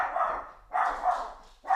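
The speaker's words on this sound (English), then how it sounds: "That's Sparky barking" A nearby dog barks three times, the first bark longer and drawn out, with short quiet gaps between them.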